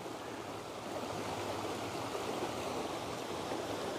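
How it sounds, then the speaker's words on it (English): River rapids rushing close by, a steady broadband roar of churning water with no breaks, loud and unaccompanied by talk. "we're right next to the rapids"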